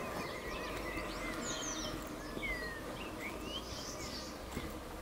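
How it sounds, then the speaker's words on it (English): Songbirds chirp and twitter in the countryside near lanes and cottages, several faint, scattered calls against a soft, steady outdoor background. "All you can hear is songbirds and wildlife just chirping away."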